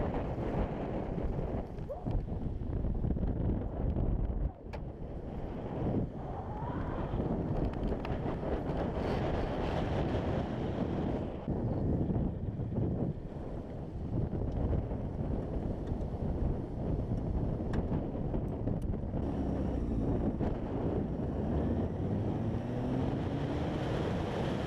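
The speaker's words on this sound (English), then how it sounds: "You see how windy it is." Strong wind buffets the microphone in a steady, loud rush with gusty bursts while riding a Kawasaki ZX6R motorcycle, alongside a low engine-like rumble throughout.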